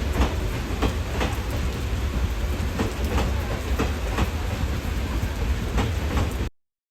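A train rumbles past close by, wheels clacking rhythmically over the rails in a steady, loud roar before cutting off abruptly.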